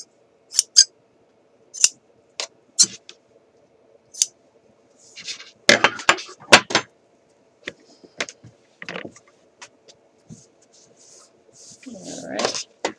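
Scissors trimming the seam allowance on a Simplicity 8014 shirt dress, a run of crisp close snips in short bursts with pauses between, some quick clustered cuts and light handling rustle.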